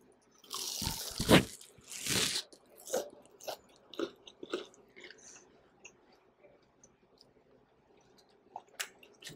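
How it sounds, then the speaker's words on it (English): Crunchy fried coconut shrimp is bitten and chewed up close, with a few loud crisp bites followed by a run of softer crunching chews that fade out. "let me try one for you so you can see how crunchy they are and perfectly cooked"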